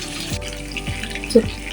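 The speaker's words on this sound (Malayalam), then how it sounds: "ചിക്കൻ വറുക്കാൻ ഇട്ടിട്ടുണ്ട്" Soft, steady crackle of chicken frying in oil, with a few sharp clicks over the brief stretch.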